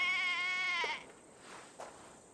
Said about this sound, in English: That sounds like a sheep,